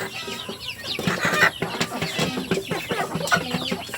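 Layer hens nearly old enough to lay eggs cluck and chatter up close in a busy, overlapping stream of short calls, with no voices over them.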